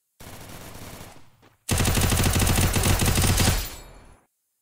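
Bursts of rapid automatic MP5 gunfire in the Free Fire video game, first a shorter volley and then a louder, sustained stream of fast shots that trails off, with no talk.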